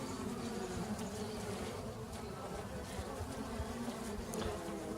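Honeybees buzz steadily inside a nuc hive opened for inspection, a dense, continuous close drone with no talking over it.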